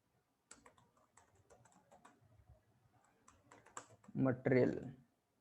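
Computer keyboard keys clack in quick, irregular bursts close by while narration is entered in Tally Prime accounting software, followed by a short stretch of talking near the end.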